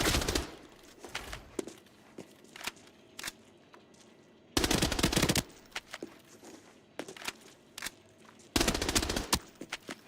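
Gunfire in Arena Breakout Infinite: several loud bursts of automatic fire alternate with single sharp shots and quieter gaps.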